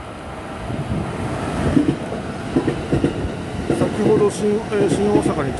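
An out-of-service Rakuraku Harima train runs past on a quadruple-track line near Shin-Osaka, giving a steady rumble with intermittent wheel clatter and a windy rush, with a voice talking over it.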